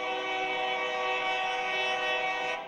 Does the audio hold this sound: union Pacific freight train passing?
yes